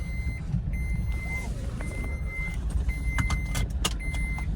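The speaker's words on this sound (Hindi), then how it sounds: "सीट बेल्ट रिमाइंडर भी है, तो सीट बेल्ट लगा ही लेते हैं पहले, एक सेकेंड।" Seat belt reminder in a 2025 Mahindra Bolero Neo SUV: a repeating electronic chime of evenly spaced steady beeps over a low engine rumble, with a few clicks and rustles as the belt is fastened.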